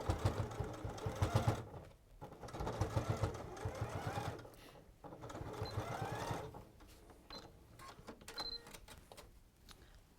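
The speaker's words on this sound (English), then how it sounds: "this machine's going through it like butter anyway" A sewing machine stitches fabric in a close, continuous mechanical whir with pulsing rhythm, slowing and pausing briefly a few times across the stretch.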